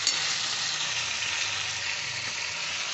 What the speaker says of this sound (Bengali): এবার আমি ফুলকপিটা দিয়ে দিচ্ছি।